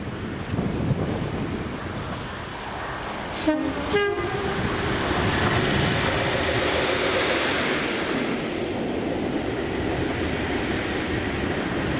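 A DRS freight train hauled by locomotive 37419 rumbles past loudly and steadily, with a two-tone horn sounding early on and continuous wheel roar throughout.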